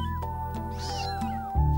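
A young kitten, just starting to walk shakily, gives a single clear, close meow that rises and falls over about a second, followed by a brief soft thump.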